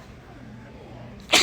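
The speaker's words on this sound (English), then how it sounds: "Sorry, I got to sneeze again." A single loud, sharp human sneeze bursts out near the end after a quiet, low-humming room, close and abrupt.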